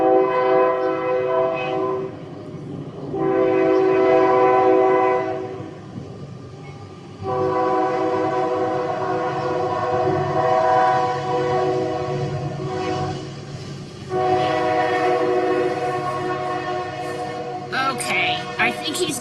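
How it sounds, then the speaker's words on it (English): A train passes close by with its horn sounding in long, loud blasts that rise and fall over the rumble of the railcars, the blasts breaking off and returning several times before the noise begins to ease. "let's let the train pass and then I'll talk again."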